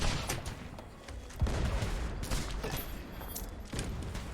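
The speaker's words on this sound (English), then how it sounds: "I'm putting in some shots." Gunfire in the pirate ship game Blazing Sails, several sharp shots cracking out at irregular intervals over a busy, noisy background, one heavier report standing out among the lighter pops.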